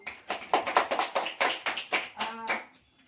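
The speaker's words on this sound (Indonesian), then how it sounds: "Tepuk tangan dong." Students in a classroom clap their hands in a quick, uneven burst of distinct claps lasting a few seconds, close and fairly loud, then fading out.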